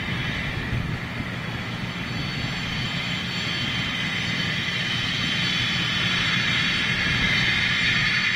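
Jet airliner with CF-34 engines at London City airport: a loud, steady broadband engine roar with a high whine, continuous throughout.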